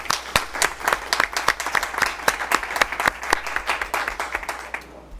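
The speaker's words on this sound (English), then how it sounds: "So if we can have a round of applause for David." A modest crowd at a school board meeting gives a round of applause, individual claps clearly distinguishable in a brisk, uneven patter that fades out at the end.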